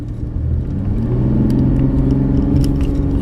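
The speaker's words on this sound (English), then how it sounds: "You guys can hear that V6 just sings with that 8-speed" A 2017 GMC Canyon pickup's V6 engine working through its 8-speed automatic transmission, heard from inside the cab as a steady, smooth low drone that rises slightly, with no talking.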